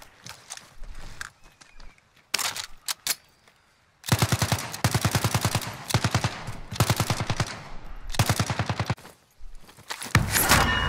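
Rifle fire in the online shooter Call of Duty: Modern Warfare Warzone: loud bursts of rapid, rhythmic automatic shots, several close together in clusters with short pauses between them, with no talk.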